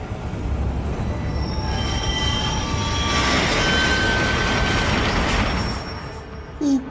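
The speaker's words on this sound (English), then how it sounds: "Oops, not your train, Mr. Wolfe." A train rolls past in the video game Adam Wolfe, wheels squealing and screeching in a long, loud, continuous rush that swells in the middle and fades near the end, with no voices.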